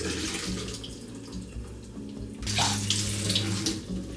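Tap water running over cooked beans being drained and rinsed in a sink, a steady splashing flow that grows louder and brighter midway through as the stream hits the beans.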